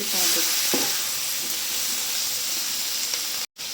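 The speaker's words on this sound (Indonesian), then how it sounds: "kita aduk sampai serata" Capcay vegetables stirred in a frying pan, sizzling with a steady loud hiss and faint scrapes throughout, then a brief cut to silence near the end.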